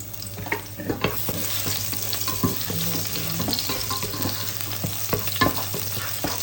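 Garlic sizzles in a little oil with a steady broadband fry, punctuated by scattered stirring clicks and scrapes of a utensil against the pan, close and continuous throughout.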